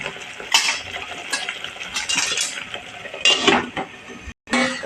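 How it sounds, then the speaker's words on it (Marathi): Cookware clatter and scraping as a lid goes onto a pot of spinach kofta curry gravy, with several clinks and knocks near the end and a brief gap before a final bang, over steady background kitchen sound. "ते आता मी झाकण ठेवणार आहे."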